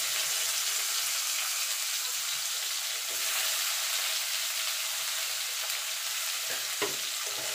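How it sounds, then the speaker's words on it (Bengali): Slices of bitter gourd (karela) frying in oil after potatoes, a loud, steady, close sizzle that holds at an even level throughout, with a couple of faint knocks near the end and no voices. "এই তেলে করলাগুলো ভেজে নেব।"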